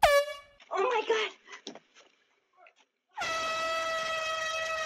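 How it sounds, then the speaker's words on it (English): A loud, sustained air horn blares alone at the start, then a voice exclaims, and after a pause a second long, steady horn blast holds to the end. "She grabbed a secret weapon, this air horn, and gave it a blast."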